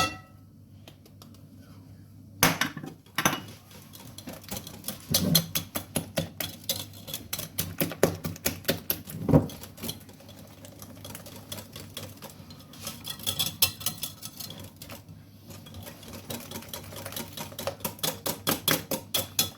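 A whisk or spoon beats chocolate fondant batter with flour in a bowl, producing rapid rhythmic ticking and tapping against the sides, close and fairly quiet, with brief pauses between bursts.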